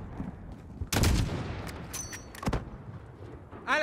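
Call of Duty Modern Warfare gunfire, a sharp loud shot followed by a few more cracking reports and echoing battle noise, close and prominent over a rumbling background.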